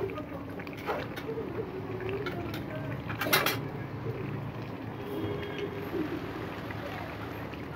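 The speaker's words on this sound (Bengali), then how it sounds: "আমি কষিয়ে নিচ্ছি।" Broiler chicken curry is stir-fried in its own juices in a pan, with a soft steady sizzle, occasional scraping of a spoon against metal, and a brief louder clatter midway.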